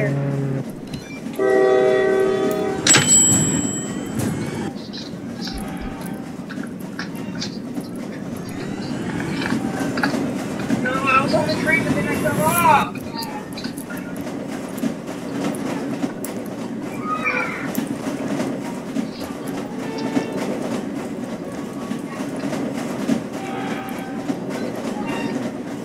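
A train rumbles past in the video game Jailbreak with a horn blast early on, steady rolling noise continuing throughout, with game-like tones and faint talk mixed in.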